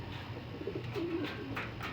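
A pigeon coos softly in a few low, throaty notes over a constant background hiss, with no voices.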